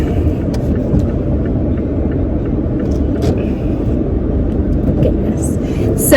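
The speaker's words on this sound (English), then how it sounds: "And now I'm driving back home." A car driving home from the beach, its steady low engine and road rumble filling the cabin at an even level with no voices, light clicks and rattles surfacing near the end.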